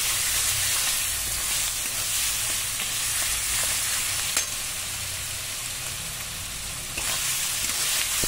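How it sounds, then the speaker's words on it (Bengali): Onion and garlic fry in a pan, a continuous bright sizzle with occasional stirring clicks, steady and close with no voices. "পেঁয়াজ আর রসুনটাকে আমি ভালো করে ভেজে"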